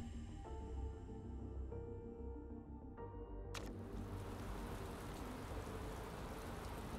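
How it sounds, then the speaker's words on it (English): Steady rain in the racing game Motorsport Manager hisses over a low engine drone, the broadband wash swelling suddenly partway through and staying dense to the end. "It's raining!"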